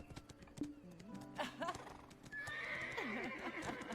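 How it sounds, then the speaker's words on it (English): A horse in the video game Black Desert Online neighs loudly when petted, a long rising and falling whinny with clip-clopping hooves before it, close and clear. "you can pet the horse in Black Desert Online"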